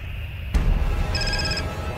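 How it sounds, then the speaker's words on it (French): A mobile phone ringtone chirps after a sudden bump, a bright repeating electronic tone playing for about half a second over low background rumble, with no talking. "Tu vas me faire croire que t'as la même sonnerie que moi?"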